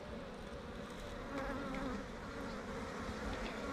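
Honey bees swarm and buzz around an opened hive holding capped honey, a dense close drone that swells slightly partway through and never lets up.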